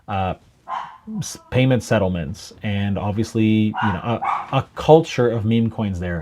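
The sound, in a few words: dog barking in the background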